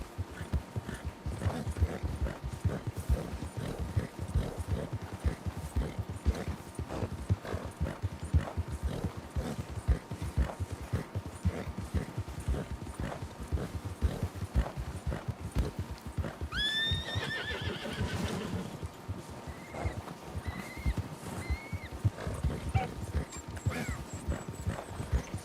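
Horse hooves clip-clop steadily throughout a Gilded RP roleplay game scene, loud and close, with a short neigh or whinny around the middle and fainter calls later, no talking.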